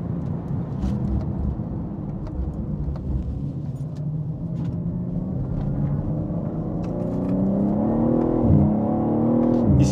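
A 680 hp BMW M3 Touring lapping the Chambley circuit, heard as a steady, loud in-car engine drone with a rising pitch toward the end under acceleration, with broadband road and wind roar throughout and no talking.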